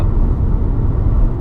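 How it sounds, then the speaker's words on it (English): Steady broadband wind and road rush inside a SEAT Leon XCELLENCE diesel hatchback on the move, a dense low roar with no break across the moment and no engine note standing out. "There's a little bit of wind noise"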